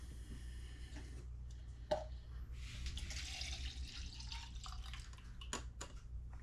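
Homemade jewelry cleaner poured into a screw-cap jar, a soft, close liquid trickle with small drips and splashes over a low background hum.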